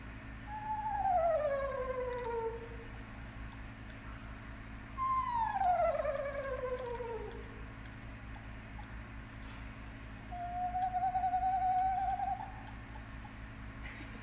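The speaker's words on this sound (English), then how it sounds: "they don't have a screech like their name suggests. It's more like a trill" Captive eastern screech owl calling three times: two descending whinny-like trills, then a level monotone trill, clear and fairly close over a steady low hum.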